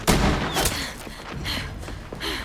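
Enemy gunfire in a video game comes as a loud opening volley, then several more bursts of shots spread across a couple of seconds.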